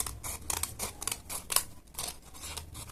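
Scissors snip through a paper Ghostface Halloween mask in a quick run of close, crisp cuts, each a short bright rasp, with no talking.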